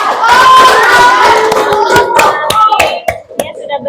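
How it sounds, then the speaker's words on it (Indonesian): A class audience claps for a student group: close, loud hand claps, first mixed with excited young voices cheering, then thinning into scattered, sharper individual claps toward the end. "Kita kasih tepuk tangan untuk kelompok"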